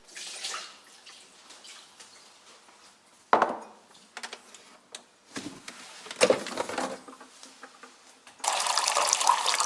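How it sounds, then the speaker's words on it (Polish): Water is poured into the tank of a De'Longhi Magnifica S coffee machine for a final descaling rinse, heard as a few short splashes and trickles, then a steady louder pour near the end. "Nalewamy wody i następne, tym razem ostatnie płukanie."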